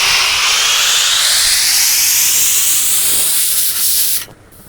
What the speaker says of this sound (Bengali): তো দেখুন সিটি ওঠা কিন্তু শুরু হয়ে গিয়েছে।